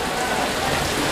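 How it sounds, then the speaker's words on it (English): Heavy rain pours steadily outside a store, a dense, continuous hiss of drops on surfaces with no pauses, loud and close throughout. "It's raining really hard."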